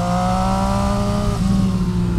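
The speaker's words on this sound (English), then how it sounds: "What a delicious sound out of this engine." An MV Agusta Brutale Dragster 800 RC naked motorcycle with an 800 cc engine revving hard and close, giving a loud, sustained, high-pitched wail that drops slightly in pitch partway through.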